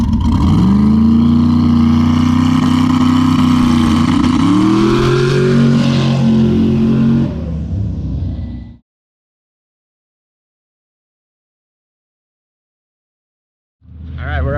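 A BMW car accelerating hard down a quarter-mile drag strip at Orlando Speed World, a loud close engine rising in pitch through several gear shifts before cutting off, followed by silence and then a brief return of engine noise.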